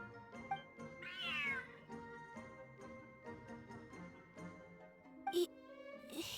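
A cat in Genshin Impact gives a drawn-out meow, then a second sharper meow near the end, both clear over soft background game music.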